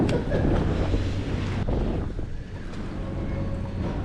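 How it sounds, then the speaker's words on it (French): Strong gusts buffet the microphone with a steady roar and rumble while fishing at sea in Japan, with choppy open water sloshing underneath; no voices are heard. "le vent aujourd'hui est super fort et ça secoue un peu la mer"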